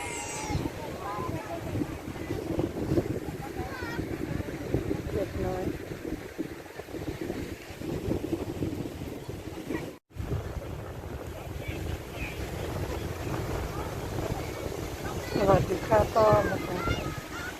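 Wind buffets the microphone at an English seaside beach near Lincoln where children play in the water, a continuous gusty roar over distant surf, with voices talking throughout and a brief dropout midway.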